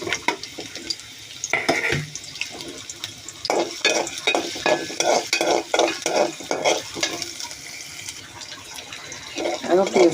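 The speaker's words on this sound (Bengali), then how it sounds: "এখন পেঁয়াজগুলো ভাজা হয়ে গেছে" Sliced onions and chopped garlic fry and sizzle in a pan while a spatula stirs them in quick, repeated scraping strokes over a steady frying hiss.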